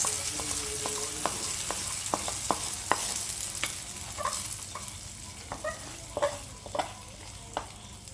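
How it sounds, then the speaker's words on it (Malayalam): Mustard seeds and shallots fry in a pan for a ginger curry, with a steady sizzle broken by sharp, scattered pops and crackles and occasional stirring scrapes, close and continuous, with no talking. "ചെറിയ ഉള്ളി ഇട്ട് വഴറ്റി വേണം കടുക് വറുക്കാൻ"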